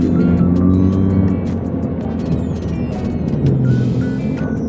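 A car travels along a road in Terengganu, Malaysia, its steady engine and tyre noise filling the whole stretch and swelling slightly as it passes close by.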